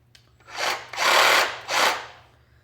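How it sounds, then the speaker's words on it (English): A Sawzall reciprocating saw cuts through wood with nails in it in three short, loud, harsh bursts, each rising and fading, heard up close with brief pauses between. "I believe I have some blades that will cut through the nails, but yeah, like the Sawzall."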